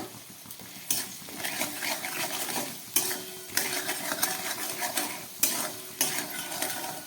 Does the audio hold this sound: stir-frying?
yes